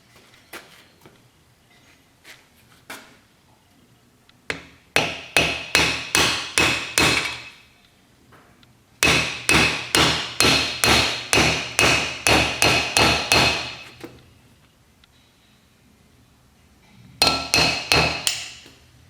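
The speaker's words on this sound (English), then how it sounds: "I got a nice seal driver here." A hammer pounds a seal driver to seat a wheel seal on a Chevy S10 spindle, delivering three loud rapid series of sharp metallic blows with pauses between them.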